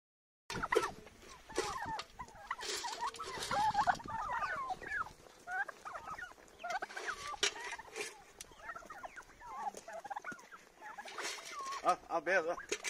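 Chickens, turkeys and other poultry in a highland coop gobble, cluck and call continuously, overlapping and close, with busy chatter from many birds.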